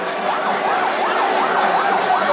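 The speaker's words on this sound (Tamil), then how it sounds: "சைரன் போட்டு போங்க" A loud wailing emergency vehicle siren rises and falls repeatedly in a continuous cycle, close by, over a dense crowd rumble at the Madurai Kallazhagar chariot festival.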